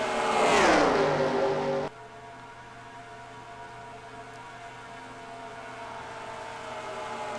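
Race cars in a stock car racing video game at Michigan roar loudly past as one engine revs and fades, then a steady hum of several cars continues over the racetrack, with no talk.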